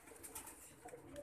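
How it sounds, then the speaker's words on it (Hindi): Soft, low pigeon cooing, faint and close, a brief murmuring call over quiet background. "देख रहे हैं इस कबूतर का नाम उन्होंने रखा है टैडियों का बाप"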